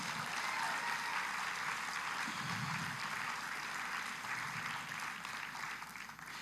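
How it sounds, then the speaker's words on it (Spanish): A church congregation applauds during a sermon, a distant, fairly faint, steady wash of clapping that holds evenly and fades slightly toward the end. "Denle un aplauso al Señor."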